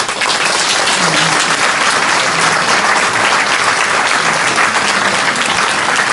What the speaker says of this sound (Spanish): A todos ellos les ofrecemos un aplauso.